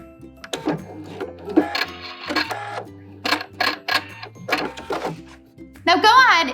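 A sewing machine back stitches along a jeans leg seam in short bursts of rattling, close mechanical stitching, each stopping and starting again, with someone talking between and over the runs.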